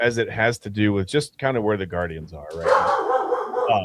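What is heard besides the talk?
dog barking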